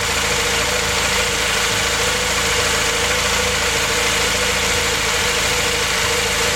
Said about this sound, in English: Okay, the engine's running now,